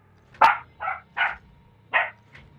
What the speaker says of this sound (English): Why are you barking, Roxy?